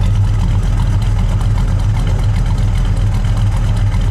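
A 1971 Plymouth Duster 340 V8 idles with a steady, loud, low rumble, close up and unbroken by talk.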